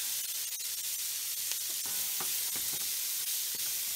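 Onions, mushrooms and garlic sautéing in a pan for Southern green beans give a constant soft sizzle and hiss, with a few light clicks and scrapes from stirring, nearby and without speech.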